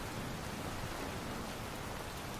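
Steady, even rain falls throughout a rainy night, a dense broadband hiss with no breaks and no voices.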